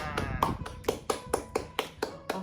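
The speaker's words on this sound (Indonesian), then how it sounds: "Tepuk tangan untuk kita semua." Classroom participants clap together in a steady, evenly spaced rhythm of about eight sharp claps, fairly faint, with some talking underneath.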